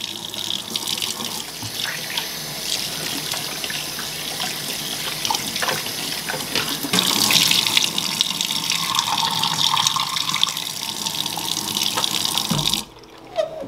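Tap water runs steadily and loudly over a Fluval FX6 aquarium filter impeller as it is rinsed in a sink, the splashing shifting in tone midway before the flow cuts off near the end.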